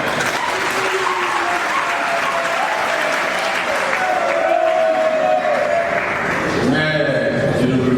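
Audience applause fills a university hall during a blood donation drive, sustained steady clapping at a constant level with voices mixed in near the end.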